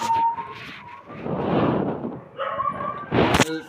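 Dogs bark and whimper in short bursts, fairly close, with a sharper yelp near the end; no speech. Village setting.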